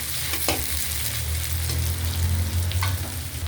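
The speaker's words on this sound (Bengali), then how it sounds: "বেশ খানিকটা পেঁয়াজ দিয়ে দিলাম এবার পেঁয়াজটাকে আমি একটু ভাজা ভাজা করে নেবো" Onions sizzling steadily in hot oil in a pan, with occasional scrapes of a spoon stirring them; continuous close frying hiss with no talk, while preparing a paneer posto dish.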